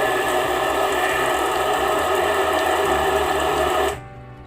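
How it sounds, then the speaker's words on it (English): A toilet bidet nozzle extends and sprays water in a female wash mode, a loud steady mechanical whir and rushing hiss that cuts off abruptly near the end. "So now let's turn the knob to the female wash and see the water coming out from the sprayer."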